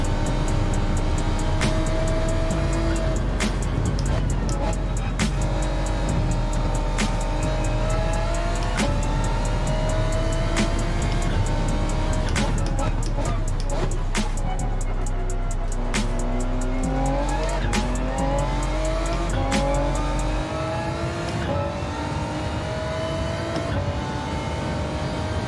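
A Ford GT race car in Gran Turismo 7 roars steadily throughout, its engine pitch rising and falling with shifts, with tires squealing at times and no voices.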